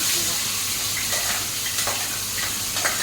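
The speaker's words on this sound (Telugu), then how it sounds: "అది కూడా వేసి బాగా పచ్చివాసన చేయడానికి కొద్దిగా గోల్డెన్ బ్రౌన్ వచ్చే ఫ్రై చేసుకోవాలి" Onion frying in a pan toward golden brown, giving a steady soft sizzle with light stirring scrapes throughout.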